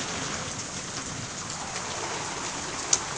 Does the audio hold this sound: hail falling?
yes